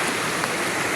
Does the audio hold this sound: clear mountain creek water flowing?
yes